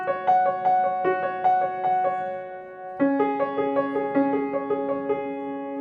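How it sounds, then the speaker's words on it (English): Solo piano plays a right-hand melodic line voiced in fifths and octaves, notes struck in a steady rhythm, moving to a new register midway. "If I played just the right-hand line with the fifth and the octave"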